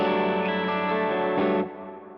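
Electric guitar run through a Ventris reverb pedal on a swelling reverb setting gives a dense, washy sustained chord that blooms and then fades into a lingering tail, heard alone.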